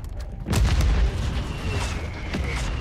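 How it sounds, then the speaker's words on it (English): A mortar strike in Call of Duty: Warzone lands as heavy booming explosions, with one loud deep blast near the start followed by rumbling aftershocks and fainter distant bursts. "I got a mortar strike."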